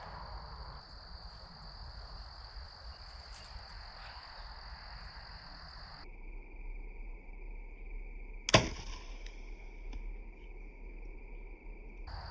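An arrow shot at a 3D archery target 40 yards out, its fletching coming off in midair, gives one sharp snap partway through, set against a steady outdoor chorus of crickets and frogs.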